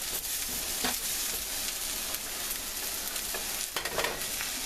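Tofu yakisoba fries in a pan, giving a continuous close sizzle with occasional scraping stirs, and no voices are heard.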